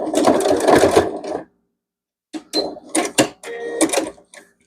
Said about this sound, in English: And just sew it down.